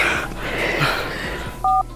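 Telephone dialing tones ring out as two short, clean keypad beeps near the end, following a stretch of background noise and movement.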